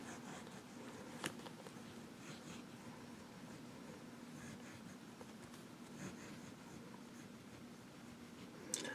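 A Nettuno fountain pen with a medium nib writes on paper, making a soft, continuous scratchy rustle with a couple of brief taps, close and quiet.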